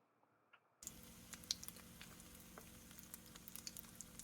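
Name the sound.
breaded fish frying in hot oil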